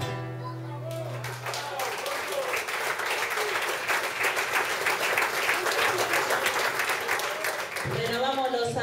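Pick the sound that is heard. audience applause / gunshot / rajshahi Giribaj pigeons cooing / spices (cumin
audience applause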